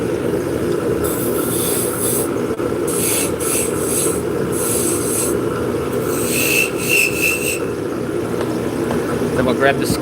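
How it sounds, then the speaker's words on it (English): A beading tool cuts beads into a spinning wooden workpiece on a wood lathe, a steady rubbing, scraping hiss that comes and goes in bursts over the lathe's constant hum, with someone talking throughout. "I'm going to be using this beading tool."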